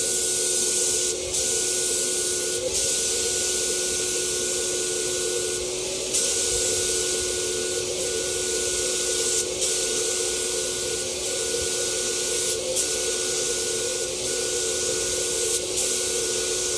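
A spray gun sprays finish onto a modern desk in a steady, loud, continuous hiss, briefly interrupted at regular intervals, heard close with no talking.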